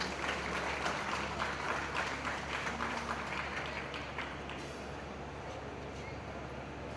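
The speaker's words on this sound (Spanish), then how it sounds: "Fuertes los aplausos para estos compañeros." A large audience at an indigenous community secondary school gathering in San Juan Petlapa applauds steadily, with a dense, distant wash of many hands clapping that gradually thins out and fades.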